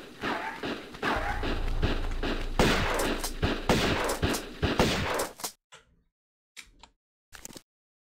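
A shotgun fires repeatedly in the video game Tomb Raider, loud dense bursts of blasts for several seconds, then a few sparse isolated shots after a break, with no talk.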